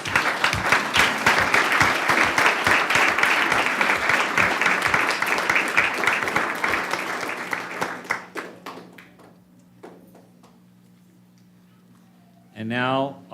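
Audience applause fills a governing board meeting room, steady dense clapping for about eight seconds that thins out and fades, leaving quiet room tone before a voice starts speaking at the end.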